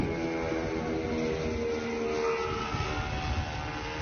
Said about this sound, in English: we have a video of the actual drone flying over